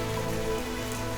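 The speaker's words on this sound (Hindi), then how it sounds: "बाहर तेज बारिश अब भी लगातार हो रही थी।" Heavy rain pours steadily outside, a dense continuous hiss of drops on surfaces with no gaps and no voices.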